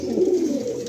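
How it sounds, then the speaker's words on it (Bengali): Mastan breed pigeons in a loft give a steady low cooing, close and clear, sustained without pause and with no talk over it. "দেখুন এটা মাস্তান ব্রিডের এক সেট পায়রা"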